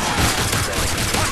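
Sustained heavy gunfire from Call of Duty Modern Warfare 3 fills the moment, a loud, continuous rattle of overlapping shots with no break.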